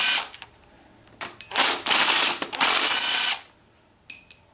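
A pneumatic impact gun rattles in several short, loud bursts while loosening crank bolts on a BMW N54 engine, with quiet pauses and small clicks between the bursts.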